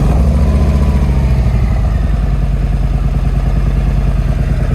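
A Harley motorcycle's engine runs close and loud, a steady rough idle with a throbbing, clattering low pulse that holds throughout without talk.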